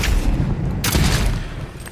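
Grenade explosions go off in the fantasy role-playing game Avowed: a heavy, booming blast hits midway, and a thick rumbling roar carries on behind it before slowly fading.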